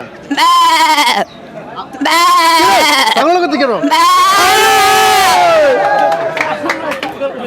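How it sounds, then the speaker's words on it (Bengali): Goats at a livestock market let out loud, drawn-out bleats, several calls overlapping one after another close to the recorder, with crowd noise underneath. "আরেকটা শব্দ আছে কিন্তু এটা এই পাশে নাই যে ওই যে ছাগল ছাগল ছাগল"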